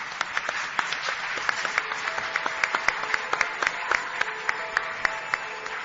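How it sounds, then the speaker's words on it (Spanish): Steady applause from a crowd, many hands clapping continuously with sharp individual claps standing out, sustained and fairly loud throughout. "Pido un aplauso para él, por favor."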